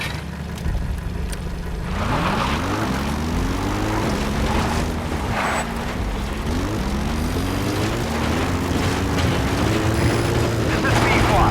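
The Pequod helicopter from Metal Gear Solid V flies in toward a landing zone. Its steady engine and rotor drone shifts and rises in pitch, loud and continuous, with game voices faintly underneath.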